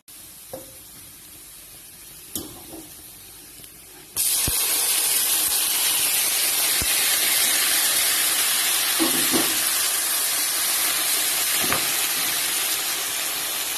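Cha-om salad with pork stir-fried in oil and garlic in a Chiang Mai kitchen, a loud steady sizzle bursting in after a few quiet seconds and hissing on with faint scrapes and clinks.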